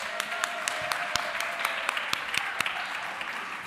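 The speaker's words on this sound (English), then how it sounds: "give yourselves a round of applause" A room full of people at a family Advent Eve liturgy claps warmly, a steady stretch of applause with sharper individual claps standing out, fairly close.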